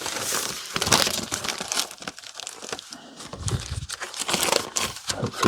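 Brown paper wrapping on a vintage Folio Society book crinkles and rustles as it is handled, with continuous close crackling and a few louder crunches.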